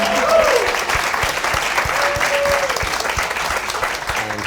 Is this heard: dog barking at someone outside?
no